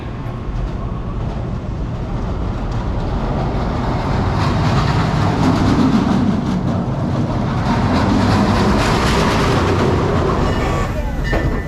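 The Scorpion roller coaster train at Busch Gardens Tampa Bay rolls along its track with a rumbling, clattering roar that swells and fades, alongside faint crowd noise.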